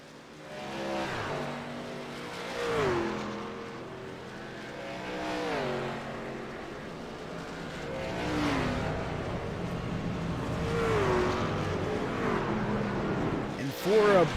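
Race cars in a sim racing event roar past on the track as green flag racing resumes, engines rising and falling in repeated waves of passes, with a commentator talking over them.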